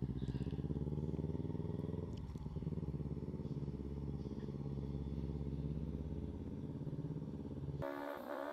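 A motorbike engine idling and running in first gear during a riding lesson, with a steady low rumble heard close and continuous for several seconds before cutting to a different sound at the end, no talking.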